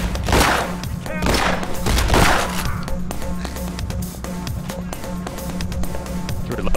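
Rapid pistol shots in the heist shooter Payday The Heist crack out in bursts near the start, with other gunfire and ambient clatter continuing behind; players talk over it.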